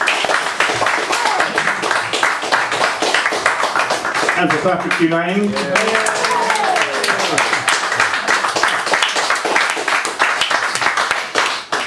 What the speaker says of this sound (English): More applause please, why not, for Project Adorno.